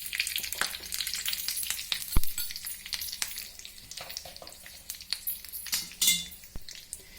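Curry leaves crackle and sizzle in hot tempering oil for hustikayi chutney, a steady frying hiss broken by sharp pops and the occasional clink of a metal spoon against the pan.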